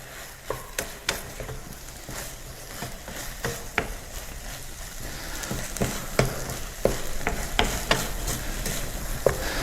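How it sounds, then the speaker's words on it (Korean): Eggplant is stir-fried in a pan with a little added water, a steady sizzle broken by repeated sharp clacks and scrapes of a utensil stirring against the pan, close and clear. "물을 조금씩 보충해 주면서 이렇게 볶는 거예요"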